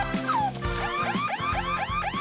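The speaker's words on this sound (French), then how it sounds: "Il y a une alarme qui s'est déclenchée." An alarm sounds outside, a loud repeating electronic warble with rapidly sweeping tones cycling several times in quick succession, no talk.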